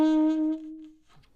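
A single sustained alto saxophone note from the opening phrase of a song, bright and close, fading out after about a second, followed by faint breath noise; no talk.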